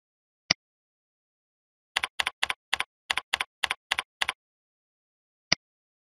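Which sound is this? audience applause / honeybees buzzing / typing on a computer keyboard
typing on a computer keyboard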